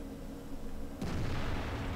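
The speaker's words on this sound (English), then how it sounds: "So I fire a second shot, which manages to penetrate and does 400 damage." An Su-5 artillery gun firing in World of Tanks, one heavy booming shot about midway that cuts through low background rumble and leaves a sustained roar after it.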